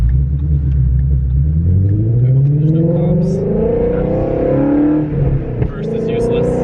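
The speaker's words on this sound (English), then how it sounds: "You ready for your GT350 pull?" A Ford GT350 accelerates hard through the gears, its engine note climbing in pitch with a loud, close rumble as it revs, while someone speaks briefly over the roar.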